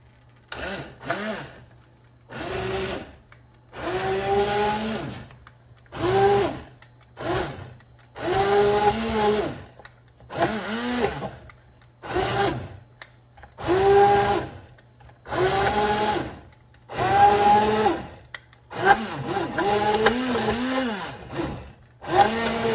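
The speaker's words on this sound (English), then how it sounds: "So you can use immersion blender, or you can pour it in regular blender" An immersion blender whirs in repeated short bursts while blending chickpea soup, about a dozen pulses with brief silent gaps between them, steady and close.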